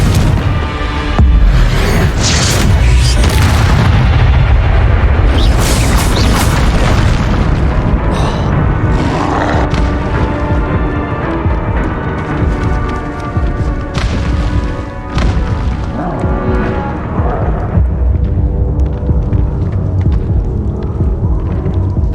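Repeated Confringo fire spell blasts in the Hogwarts Legacy video game go off as loud, continuous booming explosions with deep throbbing rumble and crackling bursts, layered densely one over another.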